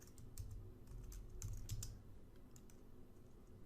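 Soft clicks of typing on a computer keyboard, a run of quiet, irregular keystrokes with small clusters and gaps, fairly faint and close, with no voices.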